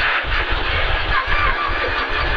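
A Renault Clio Rally5 rally car engine roars under full throttle in a continuous, loud, dense drone, heard from inside the cabin, with a voice speaking over it.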